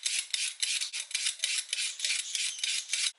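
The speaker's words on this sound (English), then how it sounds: "I'll just quickly shred the pumpkin down" Pumpkin is shredded finely on a grater, a quick run of rhythmic rasping strokes, close and fairly loud, with no talk.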